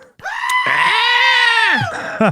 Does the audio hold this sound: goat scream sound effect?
yes